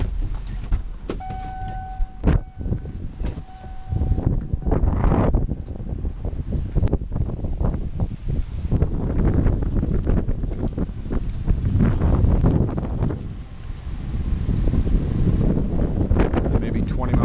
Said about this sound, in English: See, the wind isn't too heavy down here.